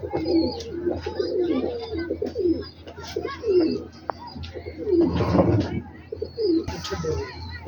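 Pigeons, male and female, coo in low, throaty repeated phrases close by, with rustling and a few chirps mixed in.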